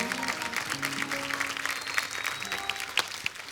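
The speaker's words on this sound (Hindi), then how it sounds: "ताली एक बार फिर से" Studio audience applause on The Kapil Sharma Show, a TV comedy program: dense, sustained clapping throughout with a few sharper claps near the end, along with faint background music tones.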